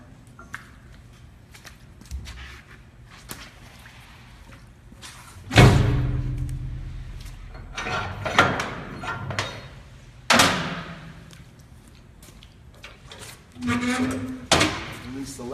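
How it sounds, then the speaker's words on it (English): A latch snaps open and the control panel of a Geoprobe 3200 direct-push rig swings out, giving a few metallic clunks and thuds spread over time among quieter handling noises. "Release the latch and swing out the control panel."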